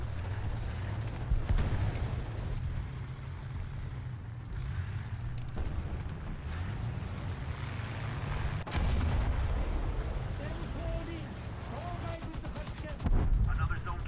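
Browning machine gun fire in the War Thunder combat game, rapid bursts amid deep booms and battle rumble, with a voice talking over the action.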